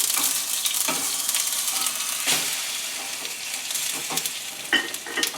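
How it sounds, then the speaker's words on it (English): A sesame-crusted tuna steak fries in a pan with a continuous loud sizzle and crackle, punctuated by a few scraping and clattering sounds as it is turned over, with no voices. "let me turn this tuna steak over"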